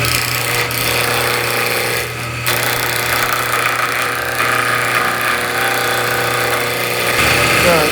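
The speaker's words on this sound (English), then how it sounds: "So take the buffing gouge again, bring it down the sides," A wood lathe spins a goose call blank while a buffing gouge works down its sides, giving a loud, steady motor drone with gritty scraping and brief shifts as the tool meets the wood.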